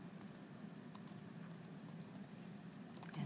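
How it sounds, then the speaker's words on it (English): Someone types a password on a computer keyboard at a desk, producing sparse, irregular clicks spread over a few seconds, with a small cluster of keystrokes near the end. The tapping is faint and sits over a low room hum, with no talking. "so she's typing password"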